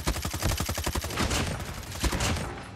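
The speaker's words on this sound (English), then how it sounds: "Oh, my God, I'm getting shot in the back." Rapid gunfire in a ranked online shooter match: close, loud bursts of automatic shots in a quick rhythm through the first half, then scattered heavier shots and impacts.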